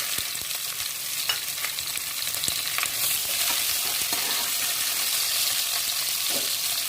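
Mustard seeds and chopped onion frying in hot oil for brinjal gothsu, a steady close sizzle with scattered crackles and light stirring taps that grows slightly fuller partway through.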